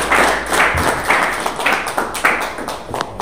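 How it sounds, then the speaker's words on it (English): A church congregation claps hands in praise during a worship service, a dense, steady patter of many hands at moderate loudness with no talk over it. "Let's give the Lord a hand clap of praise."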